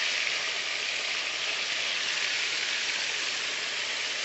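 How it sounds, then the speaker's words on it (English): Stew chicken pieces fry in a crowded pot, a steady loud sizzle and crackle of hot oil running unbroken throughout with no voices. "So you lay it all out to fry"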